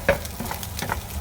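Bread and egg snack toasting in a hot pan gives a soft, steady sizzle with a few light scraping stirs, close and brief.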